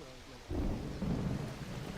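Thunder rumbles low and heavy during a thunderstorm, bursting in loudly about halfway through and rolling on over steady rain, with no voices.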